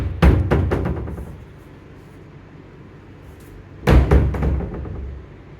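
A small hotel room safe door in a Pattaya, Thailand room bangs twice, once near the start and again near the end, each a sharp close-miked knock with a short rattle, separated by quiet room tone.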